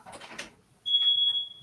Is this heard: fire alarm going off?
yes